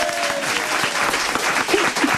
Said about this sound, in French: Et tout le monde va t'applaudir ici.